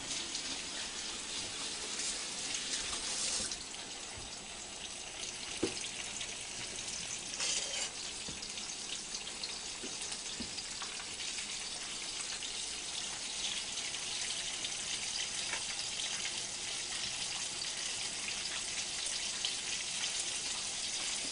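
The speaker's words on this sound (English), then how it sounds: "You only want to fry them until they're about golden brown. Go, let them fry." Steak frying in hot oil in a pan: a steady, dense sizzle that runs unbroken throughout at moderate loudness, with a few faint clicks and pops and no talk.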